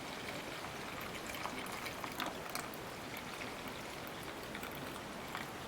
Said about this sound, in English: I'm just going to strain out the water.